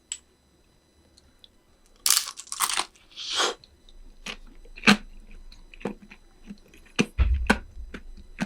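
Someone bites into a shrimp-filled mandu dumpling heated in a combination oven-microwave, giving sharp crunchy bites followed by irregular close-up chewing clicks and smacks, with quiet pauses between them and no talking.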